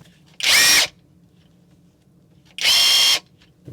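A Litheli U20 1/2-inch cordless impact wrench gives two loud, separate bursts of roughly half a second each against a quiet background, the second pitched differently as the speed setting changes.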